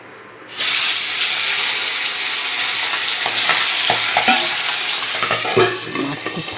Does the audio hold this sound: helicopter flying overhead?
no